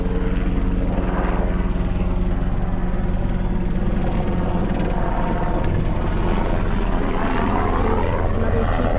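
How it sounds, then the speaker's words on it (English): A helicopter thrums steadily and loudly throughout, its rotor beat constant and close, with no pause or fade. "There's a helicopter"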